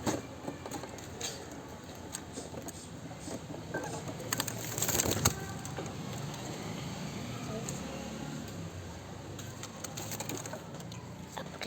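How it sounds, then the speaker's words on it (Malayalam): A tame pet pigeon gives soft bird sounds against steady background noise, with some fluttering or movement, fairly faint and continuous with no one speaking. "ഇതാണ് നമ്മുടെ പ്രാവ് ഗൈസ്"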